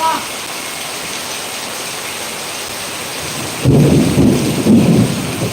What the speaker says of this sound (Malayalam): നല്ല അടിപൊളി മഴ പെയ്തുകൊണ്ടിരിക്കുന്നത്